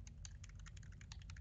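Rapid clicking of a computer keyboard, quick irregular keystrokes close to the microphone over a low steady hum, with no voices.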